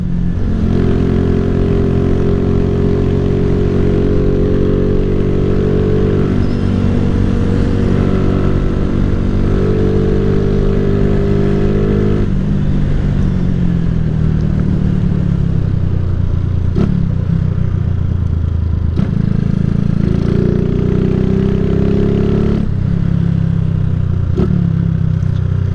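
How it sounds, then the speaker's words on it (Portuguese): A 2008 Honda CG 150 Titan motorcycle with a GRS exhaust drones steadily and loudly up close, its engine note rising and falling through gear changes. "E o escapizão GRS tá cantando, hein?"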